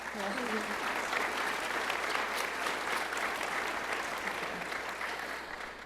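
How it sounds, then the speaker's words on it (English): Steady applause from a climate summit audience welcoming panelists onto stage, a dense, even roar of many hands clapping that fades slightly toward the end. "let's give them a round of applause"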